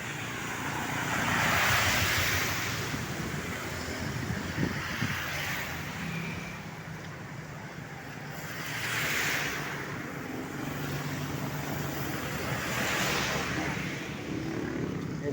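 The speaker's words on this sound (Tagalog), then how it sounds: "Ito na po yung ilog ng Apalit, Pampanga mga idol." River at Apalit, Pampanga, heard as a broad rushing wash of water and wind buffeting the microphone, swelling and fading in slow surges over a continuous low rumble.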